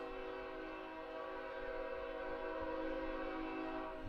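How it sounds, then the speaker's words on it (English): A train horn sounds near a soccer stadium during a match, a steady, sustained multi-tone blast that holds for the whole stretch, faint and distant over a low background rumble. "Train again, folks."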